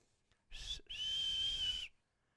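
Someone makes a tooth whistle: a short, shrill tone cuts off, then a longer steady high whistle holds for about a second. It is close and fairly loud, with no talk.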